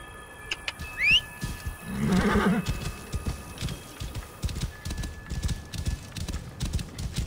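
Hooves clip-clop in a steady rhythm as a horse gallops across desert terrain in Assassin's Creed Origins, running close and continuous through the stretch alongside a short whinny and soft game ambience.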